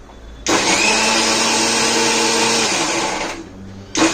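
Kitchen mixer grinding papaya with ice cubes and milk in one long loud run of about three seconds, the motor winding down before a brief restart at the end.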